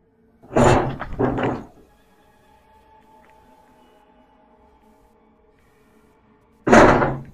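A door bangs at a ghost-hunting site: a loud, close double thud comes first, then several seconds of low hum, then another heavy bang at the end.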